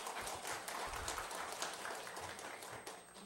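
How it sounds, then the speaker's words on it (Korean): A church congregation claps during a worship service, giving a brief, dense burst of applause that stays fairly even and then thins slightly toward the end. "박수 한번 보내주시길 바랍니다."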